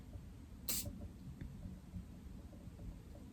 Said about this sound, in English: It's a nice spray, you don't have to push too hard.